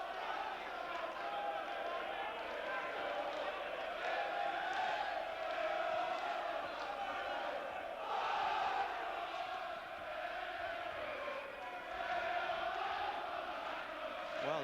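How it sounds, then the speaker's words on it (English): Boxing crowd at a 1994 Neville Brown versus Andy Flute fight, many voices singing and chanting together in a continuous distant roar across the arena. "this is some crowd here singing already at tops of their voices"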